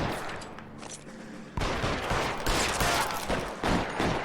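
Gunfire in the video game L.A. Noire, a rapid flurry of loud shots in bursts, dense and close, following a quieter opening.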